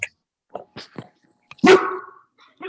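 A single loud, close dog bark stands out among a few quieter yips and small scattered sounds.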